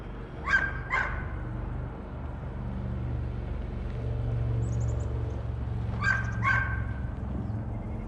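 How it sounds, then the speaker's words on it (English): A dog barks twice in quick pairs, once at the start and again near the end, fairly close over a steady background rumble of traffic, with no talking. "Maybe my dog will stop barking."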